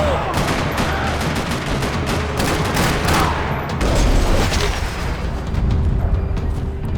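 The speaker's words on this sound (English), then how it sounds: "Another parking lot rattling with gunfire." Gunfire rattles through a parking-lot shootout in the video game Max Payne 3, with dense, rapid bursts and booming shots that stay loud and close throughout.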